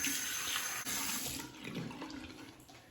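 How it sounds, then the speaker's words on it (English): Hot water runs from a tap over a ceramic shaving lather bowl, a strong, continuous close-up splash and rush of water with no talking. "I'll warm up the Shave Nation lather bowl under the hot water as well"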